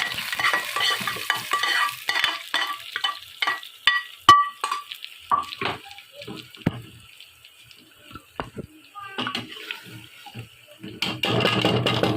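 Garlic and chilies frying in a pan with spatula scrapes and clinks, an irregular stirring rhythm over a low sizzle, with a louder rush near the end.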